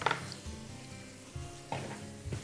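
Chopped onion hitting hot fat in a pan crackles into a steady sizzle, with clinks of a spatula stirring the pieces and brief louder scrapes near the end, close up and without speech.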